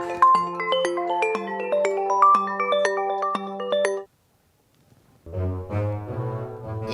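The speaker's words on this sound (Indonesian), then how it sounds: "HP lo bunyi nih." A mobile phone ringtone plays a loud, close electronic melody of repeating notes, cuts out for about a second, then a lower tune starts up again.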